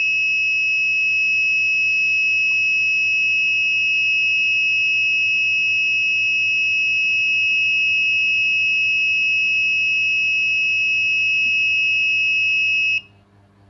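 A steady, piercing electronic buzzer tone from an ESP32 IoT alarm sounds continuously for about thirteen seconds, then cuts off abruptly, leaving a faint background hum; no one speaks.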